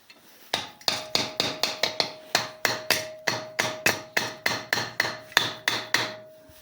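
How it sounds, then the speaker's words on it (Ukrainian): Steady, rhythmic knocks of a rubber mallet on the metal casing of a Honda GCV 160 engine, about three per second, crisp and close with a faint ringing tone beneath. "Молоточок резиновий."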